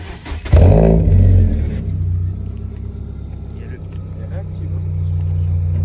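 A car engine cranks and fires with a loud burst, revs up briefly, then settles into a deep, steady idle rumble close by, with people talking around it.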